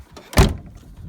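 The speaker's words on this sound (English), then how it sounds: "The doors, because they're not lined up so great, you gotta slam it" A single loud, close thud of a 1988 Land Rover Defender 127/130 door being slammed shut, a door that is poorly aligned, with quiet surroundings before and after.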